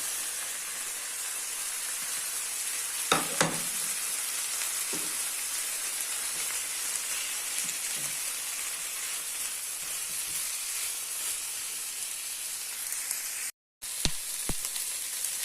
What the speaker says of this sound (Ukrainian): почало скверчати так